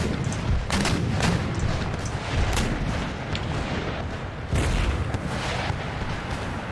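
Artillery guns firing in a wargame battle, heavy booms and blasts repeating in a dense, continuous barrage that stays loud throughout, with no talk.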